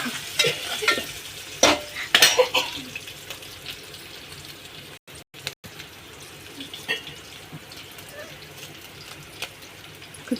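Ginger frying in a pan for tomato red lentil dal: a soft sizzle runs throughout, with several louder stirring scrapes and clatters early on, then a quieter stretch.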